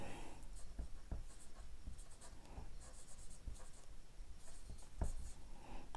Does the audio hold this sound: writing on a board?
yes